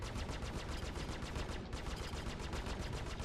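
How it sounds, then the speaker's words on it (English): Four ship guns on a Sabre firing in the video game Star Citizen, a rapid, steady stream of loud gunfire bursts with only a brief dip midway, continuous and without talk. "as long as I'm being able to keep, you know, all 4 guns on the targets"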